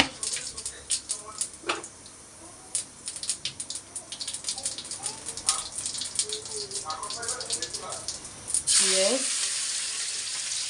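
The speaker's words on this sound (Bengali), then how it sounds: "জিরা দিয়ে দিলাম" Cumin seeds hit hot frying oil in a home kitchen pan where fish was just fried, crackling and sizzling in bursts before a louder hiss near the end, with someone talking over it.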